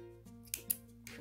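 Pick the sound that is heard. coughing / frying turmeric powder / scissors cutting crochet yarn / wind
scissors cutting crochet yarn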